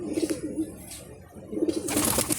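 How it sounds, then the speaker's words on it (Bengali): A racing pigeon of Olympic and Janssen lines, held in a hand, gives repeated soft, throaty coos close to the microphone in a loft setting. "আমার হাতে যে এখন যে কবুতরটি আছে"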